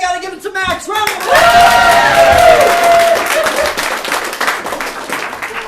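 A round of applause at an improv comedy showcase, a full crowd clapping and cheering loudly after a brief voice and a rising sung note, sustained and gradually easing.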